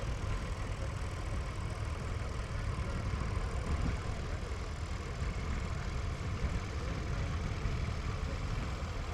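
Vintage industrial International tractor engine running steadily at a Gloucestershire vintage and country show, a continuous low idling rumble held close and fairly loud throughout with no breaks.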